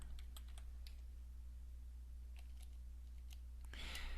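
Quiet tapping on a computer keyboard while a name is entered into a field, with scattered individual keystrokes under a steady low hum and a louder burst of keys near the end.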